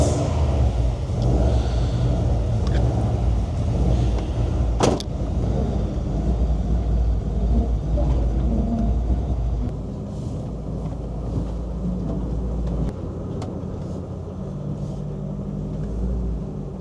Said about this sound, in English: One thing you'll hear is the Subaru Boxer 4-cylinder noise, which is iconic for the Subaru.